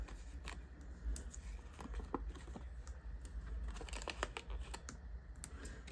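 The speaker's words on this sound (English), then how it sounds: "And so we'll just cut a few more of these edges." Scissors snip along paper edges while cardstock is trimmed for stamping, a string of quick, close, crisp cuts and rustles in an uneven rhythm, with no talk.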